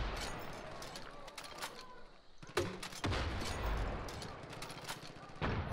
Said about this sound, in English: Mortars are coming in.